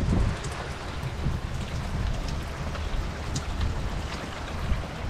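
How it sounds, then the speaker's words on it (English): Heavy rain pours down in a dense, steady hiss of drops drumming on surfaces close by, continuous and unbroken, with no voices. "But it is absolutely pouring."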